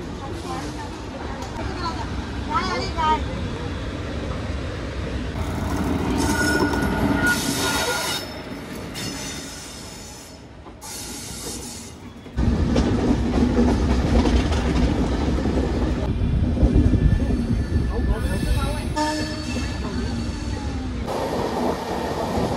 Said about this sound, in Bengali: আমাদের ট্রেন ছেড়ে দিল আজমির জাংশন থেকে।